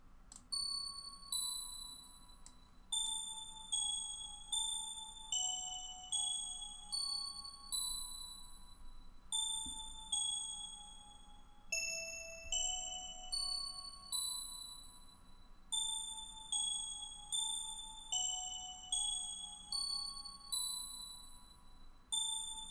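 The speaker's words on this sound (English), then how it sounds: "And there is a bell melody." A bright bell melody of quick, chiming notes rings out steadily over a soft low hum, each note ringing briefly before the next.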